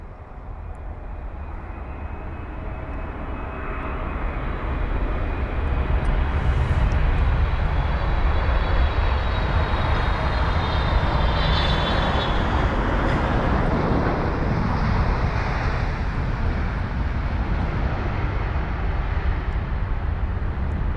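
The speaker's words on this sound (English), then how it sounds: "And that was the Air Canada 777." An Air Canada Boeing 777 landing at London Heathrow, heard close up: a loud, steady jet roar that swells after a few seconds and holds at full strength for the rest of the clip.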